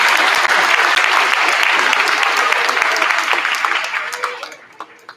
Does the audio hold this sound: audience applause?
yes